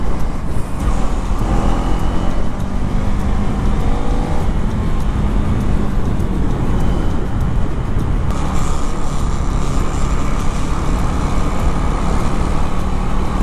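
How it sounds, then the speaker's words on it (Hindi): Dense road traffic heard from a Duke 390 Gen 3 motorcycle moving through congested Indian streets, with a continuous rumble of nearby cars, buses and trucks, engine drones rising and passing, and no talking. "अभी भी ट्रैफिक के अंदर ही फंसे हैं।"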